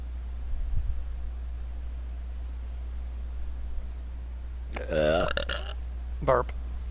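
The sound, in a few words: burp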